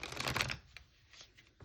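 A deck of oracle advice cards shuffled close by, a short dense riffle of flicking cards followed by a few soft taps and card handling sounds.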